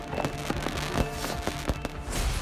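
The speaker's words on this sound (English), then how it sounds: "got ready for the New Year's fireworks" New Year's fireworks burst over Reykjavik near the cathedral, a dense run of sharp pops and booming cracks close together over a continuous crackling rumble.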